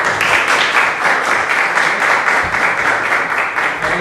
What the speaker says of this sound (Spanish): Así que le agradecemos un fuerte aplauso.